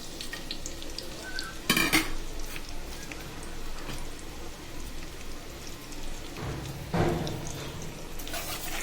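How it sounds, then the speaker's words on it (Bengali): Chopped onion, garlic and green chili dropped into hot oil in a wok-style karahi, a steady sizzle with two sharp clinks of a utensil against the pan, no talk. "এবার কেটে রাখা পেঁয়াজ রসুন কাঁচামরিচ দিয়ে দিচ্ছি"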